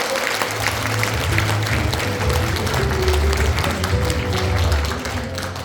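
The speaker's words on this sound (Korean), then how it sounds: "여러분 큰 박수 한번 쳐주세요" An audience at a lecture at the Seogwipo Cultural Center on Jeju claps together in a dense, steady round of applause that carries on for several seconds, with a low hum underneath.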